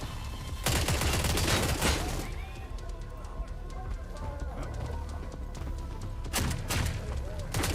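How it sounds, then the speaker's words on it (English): Rapid Glock pistol fire in The Forever Winter, loud dense volleys at the start and again near the end, with a quieter stretch of battle noise between them and a person talking over it. "my Glock that sounds like a fucking bolter"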